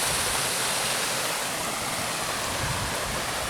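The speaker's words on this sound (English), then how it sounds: "check the waterfall." Steady roaring rush of a waterfall in the Scottish countryside near Dairsie and Kemback, a dense, unbroken broadband wash of falling water heard close and loud, with no voices.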